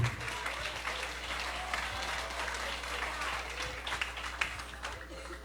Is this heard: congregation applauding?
yes